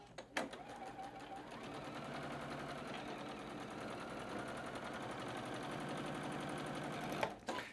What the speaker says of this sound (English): We're just going to go ahead and sew these 2 seams together